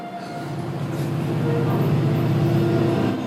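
A train passes in an animated show, a steady loud rumble with rhythmic wheel clatter that swells and holds for several seconds before easing off slightly at the end.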